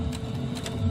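A sewing machine runs a brief back stitch while quilting a Kimberbell pillow wall hanging, giving a low, steady mechanical whir with faint ticking, close and alone.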